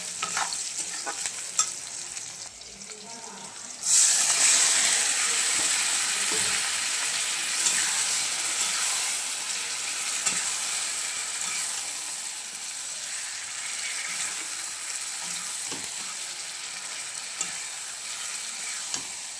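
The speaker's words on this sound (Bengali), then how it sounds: "এখানে আর কি মাংসের জন্য পেঁয়াজ ভাজা হচ্ছে" Onions fry for a meat dish in a home kitchen pan, a bright steady sizzle that jumps louder a few seconds in and then hisses on continuously with occasional stirring scrapes, no talking.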